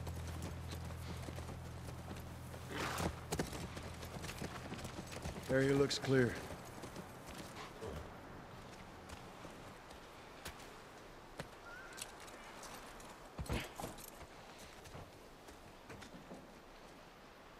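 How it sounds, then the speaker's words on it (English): A horse's hooves clip-clop by a ranch in The Last of Us Part I on PS5, clustered hoofbeats standing out against quiet ambience, with a brief line of speech. "That's our horse."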